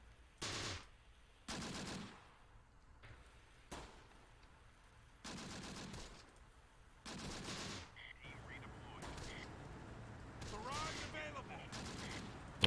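Bursts of machine-gun and rifle fire in the WWII game Close Combat: The Bloody First, several sharp volleys roughly a second long recurring every couple of seconds, then a denser continuous fusillade with faint voices underneath.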